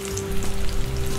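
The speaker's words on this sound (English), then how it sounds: "Continue frying your onion rings until you have completed all of them." Onion rings frying in hot oil, a steady close sizzle with a constant bubbling crackle and no talking.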